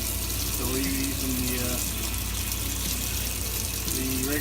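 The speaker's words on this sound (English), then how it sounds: "That's the new Oxygenics shower head on our 12-volt pump." Water sprays steadily from a new Oxygenics shower head in an RV, fed by a 12-volt pump, a constant close rushing hiss with a faint pump hum beneath.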